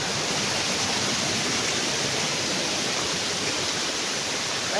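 Gaas Falls pours with a loud, continuous broadband roar of falling water, steady and close, with no voices.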